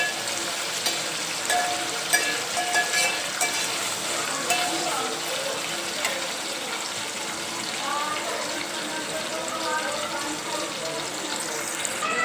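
Green chillies fry in hot oil for a Maharashtrian curry, giving a steady close sizzle with faint crackles and an occasional clink of stirring throughout.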